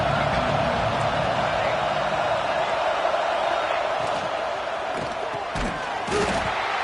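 Football stadium crowd at a USC game, a dense continuous roar of many voices building in support of the defense, with a commentator talking over it.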